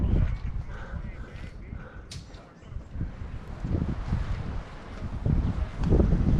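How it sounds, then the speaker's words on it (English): Strong gusts roar and buffet the microphone around a large leaning tree being removed beside a shed, a loud continuous rumble of wind noise that swells and surges in waves. "The wind is ridiculous."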